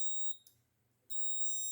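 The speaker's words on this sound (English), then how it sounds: "see, both buzzer and LED are on" A flame sensor module's buzzer sounds a steady high-pitched electronic tone, cutting out briefly for about half a second before resuming loud and continuous, with a faint low hum underneath.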